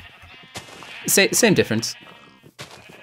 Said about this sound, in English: We have the blue sheep, the, what are these, turquoise sheep?